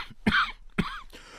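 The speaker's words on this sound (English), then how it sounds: "It would take more than soup with that cough." A person's harsh cough in two sharp bursts, spaced apart, each with a rough throaty tail, close and fairly loud against a quiet room.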